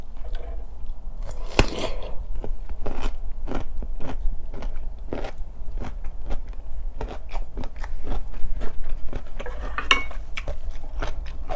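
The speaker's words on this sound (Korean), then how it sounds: "무랑 총각무랑 같이 먹어볼게요." Crunchy bites and chewing of radish and chonggak (ponytail radish) kimchi eaten with spicy Jamaican-style grilled chicken drumsticks, close and loud, with repeated sharp crunches in steady rhythm and no talking.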